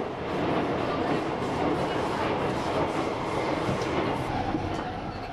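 Steady rumbling roar inside a moving Paris-style metro train car, continuous wheel and motor noise with a faint rattle, loud and close throughout.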